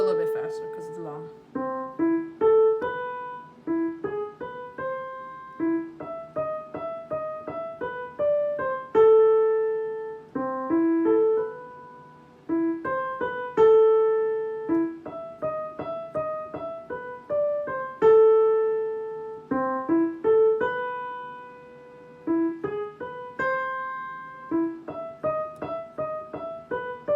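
Für Elise is played on piano as a steady, clear solo melody of repeated rising and falling notes that continues throughout at a moderate pace.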